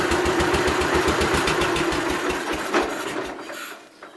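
Engine of an 1988 Gravely 12G walk-behind tractor idling with a fuel issue, a close, steady low putter whose rhythm hunts slightly, easing off and fading near the end.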